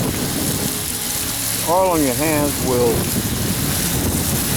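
Hose water rinses a car body before painting, a steady close broadband hiss running throughout, with a voice briefly talking over it in the middle.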